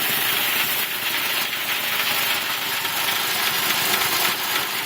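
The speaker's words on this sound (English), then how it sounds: "I can hear the belts kind of squealing a little bit in the background." An air compressor runs steadily and loudly, a dense continuous hum and hiss with no breaks; any belt squeal is buried in the din.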